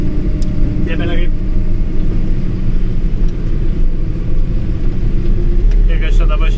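A tractor-drawn crop sprayer driving at 16.5, a steady low engine rumble with a faint mechanical whine on top, close and continuous under someone talking.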